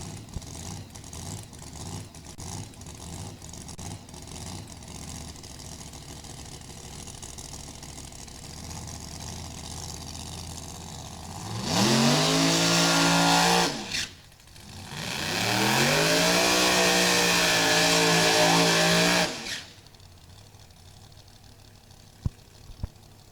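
A Mustang and a GTO at a drag racing event, two loud engine roars rising and revving hard at close range after a stretch of quieter idling and crowd ambience, then cutting back to a low background rumble.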